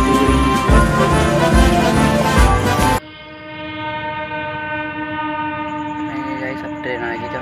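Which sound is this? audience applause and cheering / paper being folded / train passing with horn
train passing with horn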